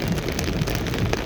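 Steady rain noise heard from inside a car driving on a flooded road in Jamaica, a continuous close wash with low road rumble underneath and no voices.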